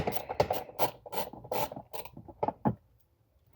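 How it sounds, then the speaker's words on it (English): An 8mm bolt behind a truck seat is loosened and backed out with a tool, giving a run of rhythmic, close rasping strokes that slow and stop near the end. "You just loosen that bolt off, and you gotta take it all the way out"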